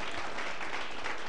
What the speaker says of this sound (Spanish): Ahora dan un aplauso al Señor y dale gracias